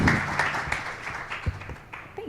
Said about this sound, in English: So everyone please give her and the panel a round of applause.